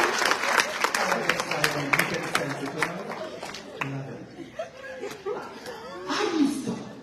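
An audience at an identity-themed talk claps and laughs, a burst of applause for a few seconds that gives way to chuckles, snickers and scattered chatter, with more laughter swelling near the end.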